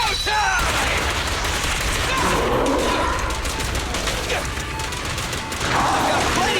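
Rapid gunfire rattles loud and close in the video game Zenless Zone Zero, a dense fusillade of shots with crashing impacts and voices mixed in.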